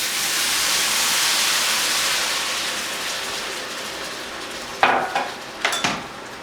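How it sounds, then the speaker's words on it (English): Broth poured into a pan of seared fondant potatoes makes a loud, steady hiss and sizzle, like rain on a hot surface, that slowly fades, followed by two short clattering bursts near the end. "Now I'm going to pour in my broth."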